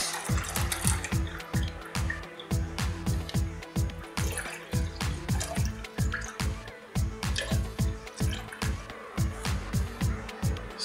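Homemade Jamaican sorrel wine drips and trickles through a small strainer in a rapid, steady patter of close liquid drops, continuing for about ten seconds with no one talking.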